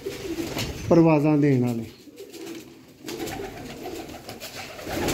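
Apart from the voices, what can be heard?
golden pigeons cooing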